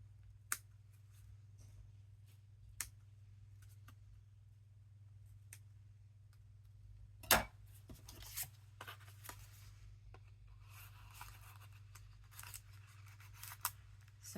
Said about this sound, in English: But we'll just snip it back open.